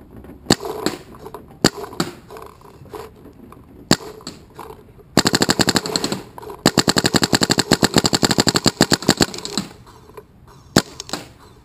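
A Planet Eclipse Geo 2.1 spool-valve paintball marker fires close by, first a few scattered single shots, then long rapid strings of crisp, evenly spaced pops, then a few more isolated shots.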